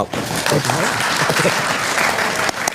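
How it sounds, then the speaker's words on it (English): Audience applause during a live stream: a dense, steady wash of clapping from many hands throughout, loud and continuous, with speech mixed in over it. "Oh, I didn't know they were allowed to applaud."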